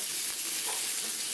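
Tortillas sizzle and fry in a hot pan for pork chop tacos, a steady close hiss with faint stirring and no talking.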